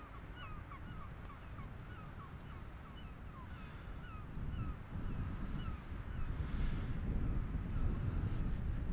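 Wind gusting across an open beach, a steady low roar that swells louder in the second half, with geese honking and calling intermittently in the distance.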